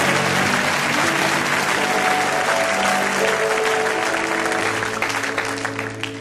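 Congregation applauding at a church service, a dense, steady wash of many hands clapping together throughout, loud and close, tapering slightly at the end.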